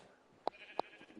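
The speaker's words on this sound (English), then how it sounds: "Oh, a baby sheep over here all by itself." A baby sheep in the video game Minecraft bleats twice in short, bright calls about a third of a second apart, fairly close and clear over a faint background hiss.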